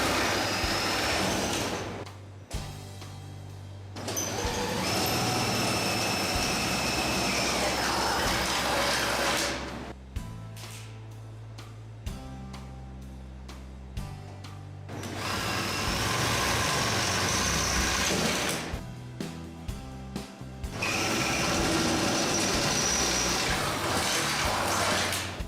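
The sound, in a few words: power drill drilling pilot holes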